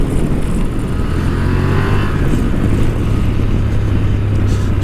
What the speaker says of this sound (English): When you start winding her up a little bit, she sounds really nice.